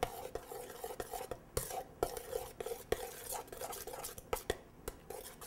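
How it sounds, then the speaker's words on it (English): Frittata ingredients mixed together in a bowl with a utensil, producing quick, steady scraping and tapping strokes, close and soft with no talk. "So now what you want to do, you just want to mix it on in there."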